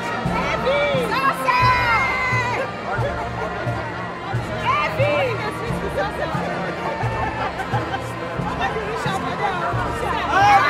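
A crowd at a William B. Travis High School graduation cheers loudly, with excited shouts, high squeals and chatter layered over a constant roar of voices.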